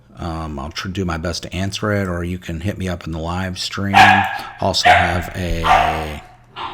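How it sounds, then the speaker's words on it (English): Small dogs bark and yip in the background of a room, several short sharp bursts rising under steady conversational talk from a man that continues throughout. "And you can hear my dogs barking"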